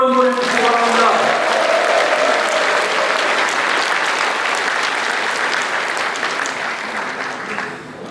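Loud, sustained crowd applause fills a People Power Party South Chungcheong members' education event and provincial chair inauguration ceremony, with a brief voice at the very start, then steady clapping that tapers slightly at the end.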